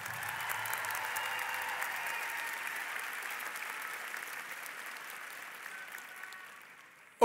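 At a high school graduation, the audience gives a long round of applause for scholarship recipients, steady and moderately distant, gradually fading before a sharp sound at the very end.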